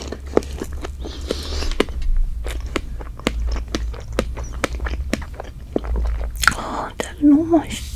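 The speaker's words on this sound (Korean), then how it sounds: "딸기가 씹히는데 생각보다 크림이 안 느끼해서 너무 맛있어요" Chewing strawberry cake with cream, close-up mouth sounds with soft repeated bites and squishy mastication in a steady rhythm, with a few louder crunchy moments near the end.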